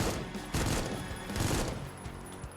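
Dense, rapid gunfire from the first-person shooter video game Supplice, a loud, cluttered burst of many overlapping shots that pounds throughout and eases off near the end.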